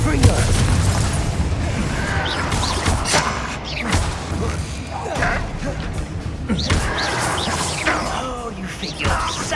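Confringo fire spells go off in Hogwarts Legacy, producing repeated thumping blasts and bursts, with a voice talking over much of the action.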